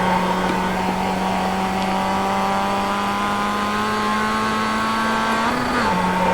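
Mazda MX-5 engine droning loud and steady during a fast lap at Lime Rock, heard from inside the car, a sustained high tone that holds, then dips suddenly near the end as if shifting.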